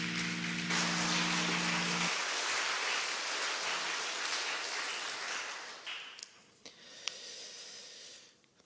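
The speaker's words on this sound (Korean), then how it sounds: "우리 한 번 더 하나님 앞에 영광의 박수 올려드리겠습니다" A church congregation at a Wednesday night service applauds in a broad, dense wash of clapping that fades away over several seconds after music stops.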